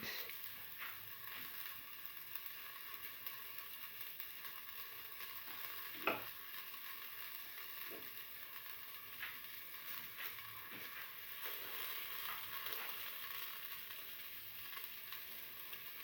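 Ginger pieces frying in a pan for a pigeon pea stew, a soft steady sizzle with scattered stirring scrapes and clicks, close and fairly quiet.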